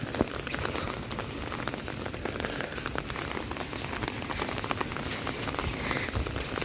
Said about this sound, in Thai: โอ้ฝนก็ตก